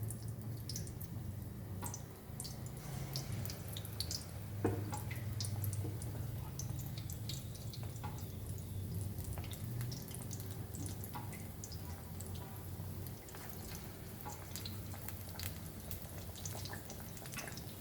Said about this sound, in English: And we'll now fry this. The oil has to be very hot for this.